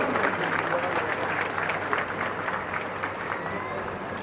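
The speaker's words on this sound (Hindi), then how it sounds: "जोरदार तालियां साथियों, जोरदार तालियां।" A crowd at a public event honoring Babasaheb Ambedkar in India bursts into loud, sustained applause. The dense clapping holds steady from start to finish, with a faint crowd murmur beneath.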